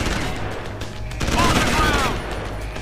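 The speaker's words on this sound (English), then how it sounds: "I've got like 6 people trying to shoot me." Enemy gunfire from several shooters during the Detroit riots in Deus Ex: Human Revolution, a dense, continuous fusillade of overlapping shots that swells slightly near the middle.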